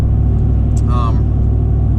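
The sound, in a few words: truck exhaust revving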